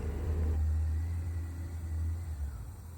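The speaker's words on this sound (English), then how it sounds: "Here I'm letting this car go by" A passing car rumbles low and steady, swelling and fading as it goes by, heard from a stationary Yamaha FJR1300 motorcycle at the roadside.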